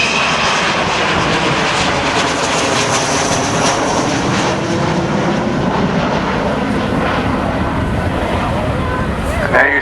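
Avro Vulcan XH558 delta-wing bomber passing overhead with its bomb bays open, a loud sustained jet engine roar with heavy rumble and wind buffeting throughout.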